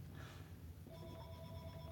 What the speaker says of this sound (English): my telephone's ringing